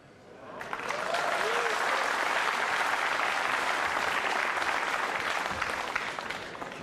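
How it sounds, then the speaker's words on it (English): A crowd at the 2006 World 9-Ball Championship bursts into loud, sustained applause that rises within a second and holds as a dense, even roar of clapping filling the hall. "And the crowd applauds a routine safety as if he's just scored the winning goal in the World Cup final."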